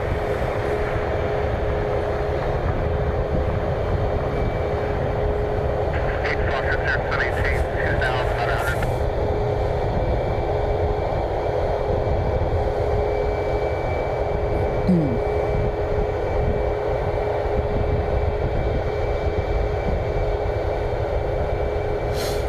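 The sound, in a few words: United Airlines Boeing 737 MAX 8 jet departing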